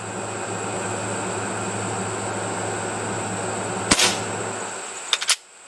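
A QB78 air rifle fires once with a sharp crack over a steady droning background, followed moments later by two small clicks or knocks.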